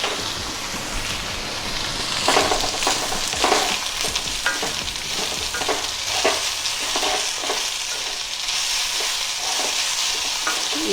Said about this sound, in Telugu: బంగాళదుంప వేపుడు కూడా ఒకసారి ఇలా కలుపుకోవాలి